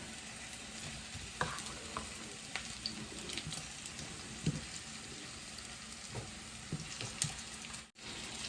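Asparagus frying in oil in a pan, a soft continuous sizzle with scattered small pops and occasional scrapes as the spears are tossed about, fairly quiet and without talk.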